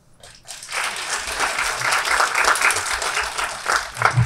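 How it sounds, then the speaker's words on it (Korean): An audience at a glocal youth talent forum session claps for a professor after his opening presentation, the applause swelling quickly after a brief quiet start and then holding dense and loud, with a few louder claps near the end. "오종림 교수님 다시 한번 큰 박수를 부탁드리겠습니다"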